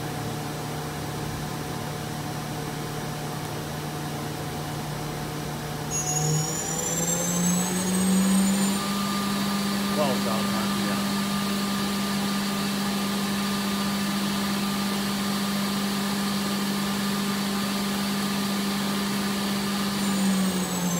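The spindle of a 2015 Doosan Mynx 6500 CNC vertical machining center runs up toward 9,000 RPM. A steady whine rises in pitch partway through, then settles into a loud, constant high hum with airy noise beneath.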